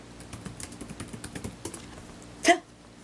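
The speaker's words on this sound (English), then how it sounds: "So I'm going to go back to Google Scholar and I'm going to type in Joe Heitman." Rapid keystrokes clatter on a computer keyboard as a name is typed, close and fairly quiet, in an uneven run of light clicks followed by one louder, brief burst near the end.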